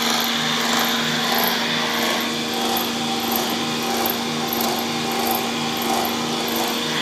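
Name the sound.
electric motor running, driving an alternator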